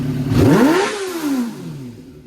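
A 2005 Suzuki GSX-R 600 engine, suffering a power issue, revs hard at full throttle, its loud close pitch rising sharply and then falling away as it settles.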